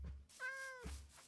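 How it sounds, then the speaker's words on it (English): A single short cat meow from the Minecraft video game, clear and close, lasting under a second between quiet gaps. "Cat."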